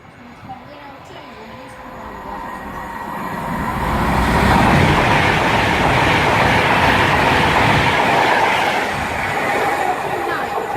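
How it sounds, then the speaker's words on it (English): A Virgin Pendolino express, bound for London Euston from Glasgow Central on the West Coast Main Line at Winsford, passes close by with a broad, swelling roar and rail rumble that peaks midway and stays loud to the end. "now passing is going to be a Virgin Pendolino bound for London Euston from Glasgow Central"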